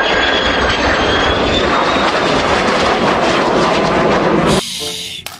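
A fighter jet in a video game roars loudly and continuously, then the engine noise cuts off abruptly near the end and leaves a quieter background.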